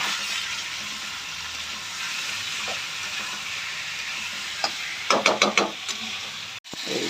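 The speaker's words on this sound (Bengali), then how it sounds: "তারপরে ফেনা হয়ে যাচ্ছে, আস্তে আস্তে ভাজা হয়ে যাচ্ছে, সেই কারণে ফেনা হয়ে যাচ্ছে" Food fries and foams in a pan with a steady, close sizzle, interrupted near the end by a quick cluster of clattering utensil knocks.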